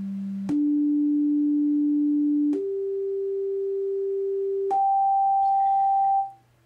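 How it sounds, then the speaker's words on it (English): Four oscillators of a Solaris synthesizer, each coarse-tuned differently, sound one after another as steady pure tones stepping upward in pitch, each held a couple of seconds at even loudness with a sharp onset, the last one fading out. "I will be listening to the four oscillators first."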